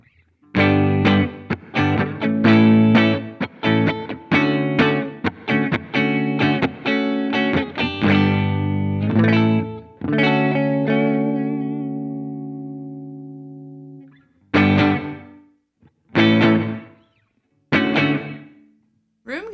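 Electric guitar notes and chords ring through a NativeAudio Ghost Ridge reverb pedal on its room setting, a subtle, short ambience trailing each strum, with a long sustained chord fading before a few final stabs.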